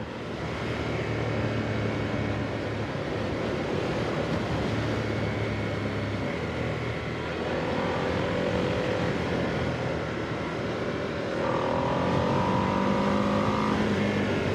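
A Ducati Streetfighter V2 motorcycle engine drones steadily at close range, its pitch climbing as it accelerates toward the end.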